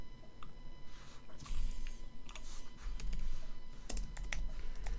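A computer keyboard is typed on quickly in a quiet room, the key clicks coming in uneven bursts, close by and faint, with no one talking.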